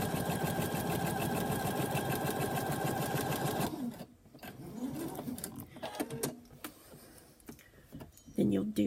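A sewing machine hums fast and steady while stitching quilt strips, running for nearly four seconds before stopping, followed by quieter handling noises and soft clicks up close.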